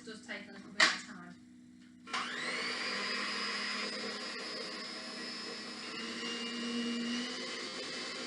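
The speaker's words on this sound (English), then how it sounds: "I'm going to whisk those now until they go light and fluffy" An electric whisk whisking eggs runs as a steady, high mechanical whir after a few short clicks and a brief pause, holding close and even to the end.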